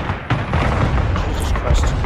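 A bomb strike explodes in the multiplayer game Broken Arrow as a loud, dense booming rumble that fills the whole moment, with a sharp crack near the start, and a voice talks underneath.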